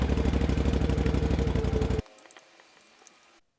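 A Can-Am Outlander ATV engine idles while warming up, a loud, fast, even rumble of pulses that cuts off abruptly partway, leaving faint ticking and quiet before silence.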